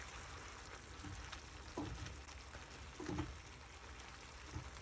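Chicken and vegetables in a white wine caper sauce simmer under a lid with a steady, soft sizzle and bubbling, plus a few faint stirring clinks, quiet and close.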